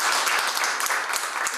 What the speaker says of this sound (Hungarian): És most tapsoljuk meg őket!